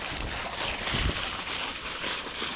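A Honda WB20XT gas-powered water pump pushes out a heavy flow of water while draining a pond, a steady broadband rush close to the microphone with gusty wind buffeting over it and no voices.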